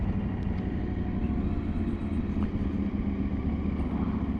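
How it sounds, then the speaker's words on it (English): KTM 890 Adventure R motorcycle ridden off-road in first gear over technical terrain, a low steady engine rumble with wind noise and faint ticks, heard up close without talk. "fine control is really easy to do on this bike"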